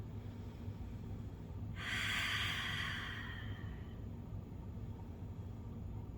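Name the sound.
deep breathing during yoga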